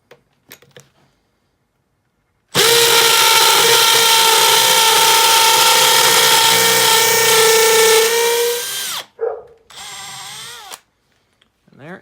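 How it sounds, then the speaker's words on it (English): Makita XPH07 brushless hammer drill boring down to a set depth gauge: a single loud, steady high whine lasting about six seconds, then winding down abruptly, followed by brief clatter and a short burst. "And now we'll drill to that depth."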